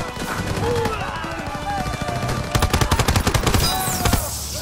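Soldiers firing weapons in the World War II shooter Call of Duty WW2, street fighting during a tank mission: loud, close automatic bursts build into a rapid rattling volley, with voices also present.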